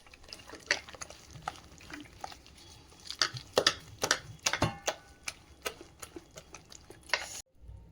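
Bread pakoda batter with baking soda and ajwain being stirred in a bowl: irregular clicking taps of a spoon against the bowl, faint and close, ending in sudden quiet.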